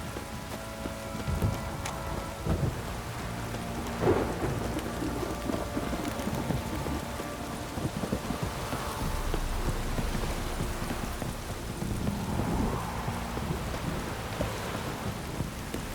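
Rain hisses steadily through a thunderstorm in The Witcher 3 game world, with low rumbles of thunder rolling beneath and occasional clip-clopping hooves and clanks.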